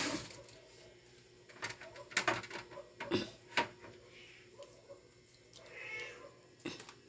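A cat meows several times in short separate calls near a fish being prepared, with faint clattering and background noise between the cries.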